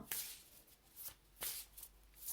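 Tarot cards shuffled by hand up close, quiet papery riffles in several short bursts with brief pauses between.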